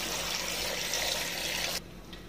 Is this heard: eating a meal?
no